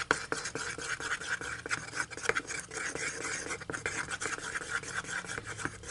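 Green dye being stirred into a snow-style slime, giving a steady scraping, rasping rub that carries on with no pause, close and moderately loud with no talking.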